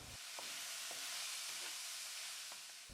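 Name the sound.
stir-frying onion, ginger, scallion and garlic in a wok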